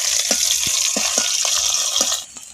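Dried red chillies and peeled garlic cloves stirred in hot oil in a pan, a steady close sizzle with a few soft spatula scrapes and taps, fading slightly at the end.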